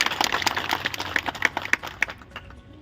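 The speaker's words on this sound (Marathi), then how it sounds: "एकदा जोरदार टाळ्या त्यांच्यासाठी या ठिकाणी झाला पाहिजे" Audience applause at a hall inauguration ceremony, a short burst of scattered, uneven hand claps that thin out and fade to quiet within about three seconds.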